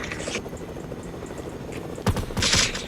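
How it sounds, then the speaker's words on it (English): Video-game gunfire during a helicopter ride: short bursts of shots over a steady rotor drone, with a louder burst near the end, close and fairly loud, with no speech. "Stop shooting, there's nobody."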